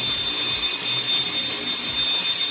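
A power drill whirs steadily at close range as it works old glue out of a golf club shaft during reshafting at home, a continuous loud high whine with no talk.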